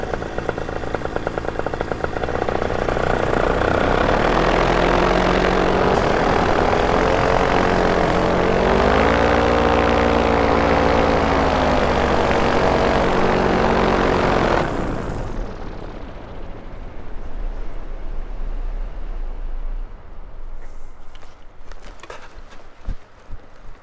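A small propeller airplane's engine drones loudly in flight at a fly-in. The pitch shifts as the plane passes close, then the sound fades into the distance with faint background noise.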